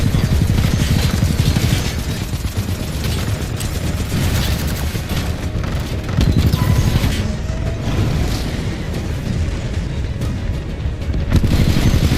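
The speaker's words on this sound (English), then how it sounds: "There are mortar titans launching rockets at the Harvester." Mortar titans launching rockets in Titanfall 2 co-op play, a dense continuous barrage of booming launches and explosions with rumbling low end, loud and sustained throughout.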